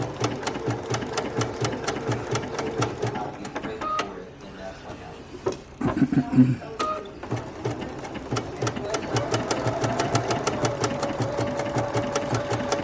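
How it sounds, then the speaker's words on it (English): A sewing machine appliqueing fabric blades onto a Dresden plate table runner runs in fast, steady stitching bursts, pausing briefly in the middle before resuming close and continuous, with someone talking over it. "now I'm appliquing the blades or the leaves"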